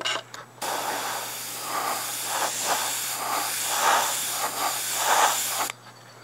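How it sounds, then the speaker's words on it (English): Airbrush test shot sprayed onto a fluorescent board: a steady, close airy hiss runs almost continuously for about five seconds, swelling slightly in places, with brief spurts at the start and a quiet cutoff at the end. "Always take a test shot before you start on your model."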